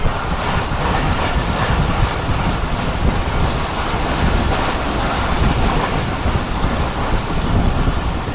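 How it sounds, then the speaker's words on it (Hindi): The Jaffer Express, pulled by a Chinese locomotive, rolls through Devna Jaliani railway station with a continuous loud rushing roar and rumble of wheels and wind, steady throughout with no voices. "अब जाफर एक्सप्रेस तो मिल गई हमें देवना जलियानी पर"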